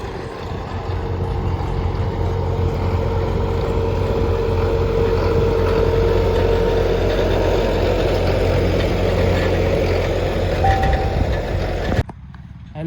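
A tractor engine runs steadily at close range on a farm field, a continuous droning rumble with a faint whine, holding even for about twelve seconds before cutting off abruptly.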